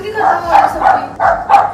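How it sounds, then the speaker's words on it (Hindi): A dog barks and yips in a quick series of about five sharp calls, loud and close, while a person talks over it. "देखो भाई कुत्ता भौंक रहा है"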